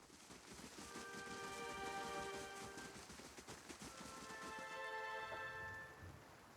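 Steady rain falls in the fantasy role-playing game Pillars of Eternity, a soft continuous patter that stays at an even, fairly quiet level throughout, with no voices over it.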